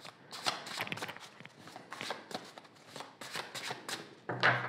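A deck of tarot cards being shuffled and cut up close. Brisk, repeated riffling and flicking bursts in an uneven rhythm, closing with a sharper knock as the deck is set down.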